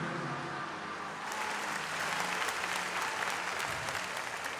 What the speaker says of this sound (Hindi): सब जोर से तालियों के साथ परमेश्वर का थैंक्स करें।